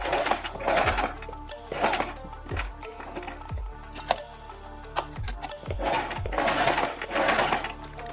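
Sewing machine stitching fabric strips onto a kurti neck piece, a close, steady mechanical whirring that runs the whole time, with rhythmic knocks from the needle and brief pauses in between.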